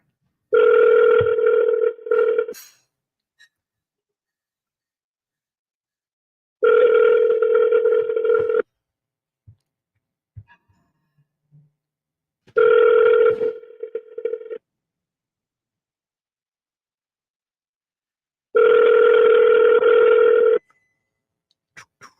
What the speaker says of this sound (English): Let's go ahead and redial.